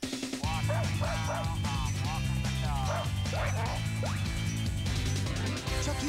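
Dog barks and yips in a TV commercial for a walk-the-dog toy, repeated short barks over a steady jingle and music, with talk over the ad.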